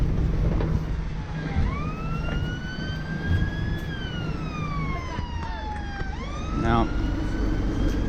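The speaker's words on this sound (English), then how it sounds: "Now we have an ambulance desperately trying to get down to an emergency in Wandsworth" An ambulance on an emergency run through congested A3 traffic in Wandsworth, its siren wailing and sweeping in pitch over the steady hum of idling vehicles while someone speaks briefly.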